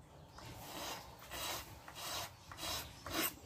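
Rhythmic rasping of sandpaper rubbed back and forth over a carbon brush from a Kia Avella radiator fan motor, about six strokes in a steady cadence, close and fairly quiet.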